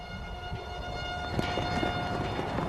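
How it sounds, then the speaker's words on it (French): A town warning siren sounds before a tornado as the wind strengthens, a sustained steady wailing tone held throughout over rumbling, gusty background noise, moderately loud and somewhat distant. "j'ai entendu la sirène de la ville"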